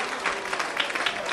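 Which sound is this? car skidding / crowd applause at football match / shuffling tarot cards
crowd applause at football match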